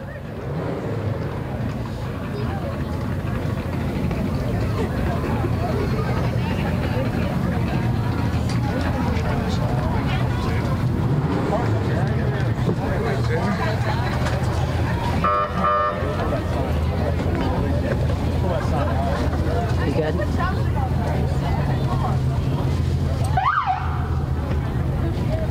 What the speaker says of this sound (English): Sounds like we've got some engines revving.